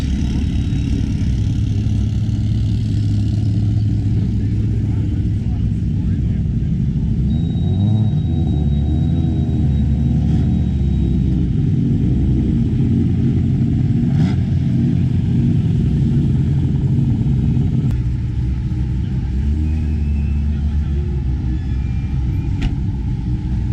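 A rotary-engined car at a car show gives off a loud, steady low rumble that holds close and continuous, with a few shifts in pitch where the engine is revved, and no voices.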